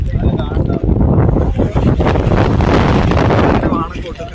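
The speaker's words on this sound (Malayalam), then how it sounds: "നല്ല കാറ്റുണ്ട്" Strong wind buffets the microphone on a hill-station outing at Matheran, a dense, continuous roar that fills nearly the whole stretch, with voices faintly mixed underneath before it eases at the end.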